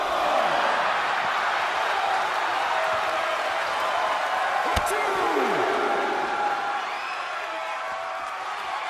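Wrestling arena crowd in WWE 2K22, a dense roar of cheering and applause with a sharp slam midway, while a commentator's voice runs over it.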